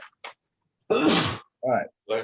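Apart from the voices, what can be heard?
sneeze in a lecture hall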